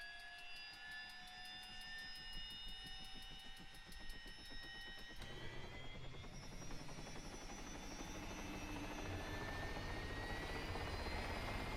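A helicopter engine in Altis Life, an Arma game mode, whines and thumps with rapid rotor chop, then builds into a louder, rushing roar as it lifts off, steady and close.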